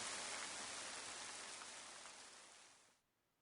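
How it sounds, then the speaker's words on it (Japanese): Steady rain falling as a soft, even hiss that fades out near the end, heard alone without any talking. "夜になっても雨はなかなか止みませんでした。"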